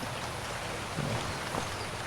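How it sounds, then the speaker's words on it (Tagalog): Heavy rain falls continuously, a dense, steady hiss of drops striking surfaces close by, with no pauses and no voices. "Di walang tigil ang ulan."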